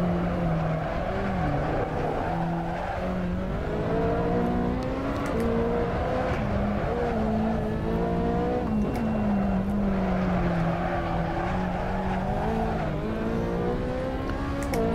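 A race car engine in a racing simulator game at Silverstone International, in either a Corvette ZR1 or a Ferrari 458, drones steadily and close, its pitch rising and falling through repeated revs and gear changes, with no talking.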